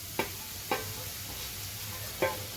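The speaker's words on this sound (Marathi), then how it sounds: "आता आपण ह्याच्यावरती हा बटाटा जो किसून घेतलेला आहे हा बटाटा घालूया" Grated boiled potato stirred into sautéed vegetables in a pan, a steady sizzle with three distinct scraping clacks of a spatula against the pan.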